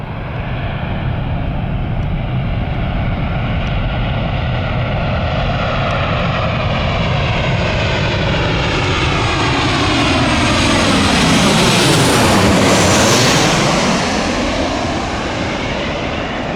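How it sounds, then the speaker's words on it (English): A fixed-wing airliner at Cleveland airport roars past nearby while landing or taking off, a loud sustained jet and engine drone that swells to a peak and then fades, with a falling pitch sweep as it passes. "we got a plane coming, and got a plane taking off over there"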